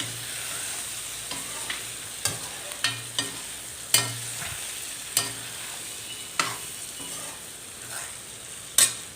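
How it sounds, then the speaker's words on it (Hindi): A spoon stirs turmeric into a karonda and green chili pickle, scraping and clinking against the pot in a dozen or so irregular taps over a soft sizzle, close and clear with no talking. "इसको चला लेते हैं, देखते हैं अगर और ज़रूरत होगी तो थोड़ा सा और डालेंगे"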